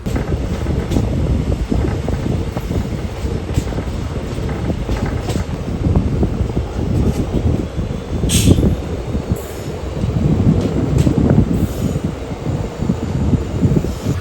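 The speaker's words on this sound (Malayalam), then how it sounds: "അങ്ങനെ നഞ്ചങ്കോട് സ്റ്റേഷനിലേക്ക് മന്ദം മന്ദം പ്രവേശിച്ചുകൊണ്ടിരിക്കുകയാണ്" A Mysuru–Chamarajanagar passenger train rolls slowly into Nanjangud station, a loud steady rumble of wheels and carriages with scattered clanks, squeals and wind buffeting the microphone throughout.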